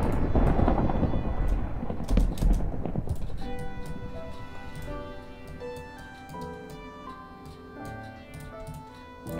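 A thunderstorm rumbles in Minecraft, with a loud, deep thunder roll that fades into a softer bed over several seconds beneath layered ambient music tones.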